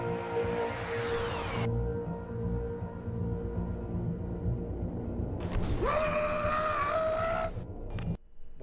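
Scream from a character in the video game Detroit: Become Human, a long wavering, harmonic-rich howl rising and falling over a steady game backdrop, followed later by a second strained, pitched cry before cutting out.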